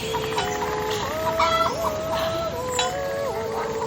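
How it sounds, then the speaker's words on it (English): Chickens cluck in a Swiss Alps farm scene, with warbling, rising and falling calls that carry on steadily at a moderate level for several seconds, with no talking. "add a calm breeze, some cowbells and chickens clucking, maybe a singing voice in the distance"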